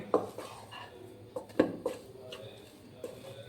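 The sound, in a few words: stirring and mixing cutlet mixture with coriander leaves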